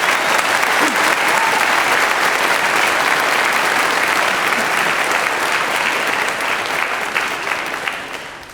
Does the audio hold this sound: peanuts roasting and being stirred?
no